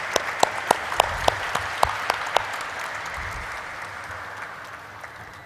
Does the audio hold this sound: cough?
no